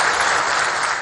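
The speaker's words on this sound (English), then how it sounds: "a resounding ovation as a Palestinian leader entered the General Assembly chamber" A resounding ovation in the UN General Assembly chamber as a Palestinian leader enters, with dense sustained applause from a large crowd filling the hall, loud and steady for a brief moment.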